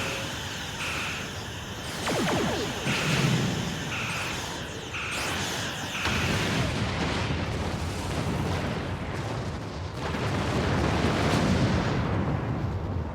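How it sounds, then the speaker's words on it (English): Booming explosions in the space game Star Trek Online after a torpedo attack, a dense roar of repeated blasts and crackling debris that swells and surges for several seconds, with game music faintly underneath. "That was quite the explosion."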